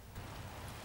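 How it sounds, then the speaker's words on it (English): Steady rain falls outside a country house, a soft, even hiss with no other sound. "It would rain, wouldn't it?"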